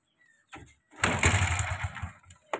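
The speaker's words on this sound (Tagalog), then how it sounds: "Andar siya pero pupugak." A rust-covered Honda CB125 motorcycle engine sputters, then catches and roars into a rough, uneven run close by, cutting out briefly before firing again.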